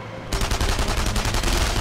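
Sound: gunfire in the video game Enemy Front

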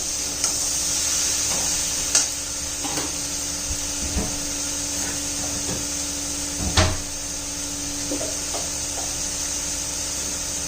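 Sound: sautéing dhemsa (round gourd) in pan

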